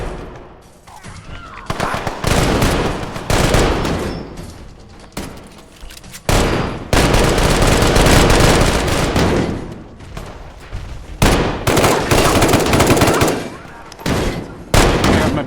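Heavy video-game gunfire from big guns in a post-apocalyptic fight against raiders in power armor, loud dense bursts and sustained rattling volleys with brief gaps, some talk mixed in.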